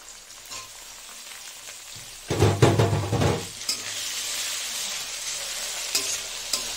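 Small chicken pieces soaked in vinegar sizzle in a pan for egg chicken chowmein, a steady crackle broken by a loud burst of scraping and stirring midway, then settling back into a close, even fry.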